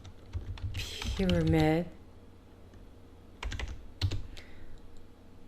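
Typing on a computer keyboard, scattered clicks and short bursts of keystrokes, close and fairly soft, with someone speaking briefly in between.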